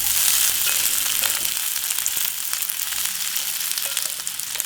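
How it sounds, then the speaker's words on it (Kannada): Soy chunks pan-frying in a teaspoon of hot oil, a loud continuous bright sizzle with crackling pops throughout, close and steady, no talk. "ಈಗ ಎಣ್ಣೆ ಕಾದಿದೆ. ಈ ಸೋಯಾ ಚಂಕ್ಸ್ನ ಹಾಕ್ಕೊಂಬಿಡೋಣ."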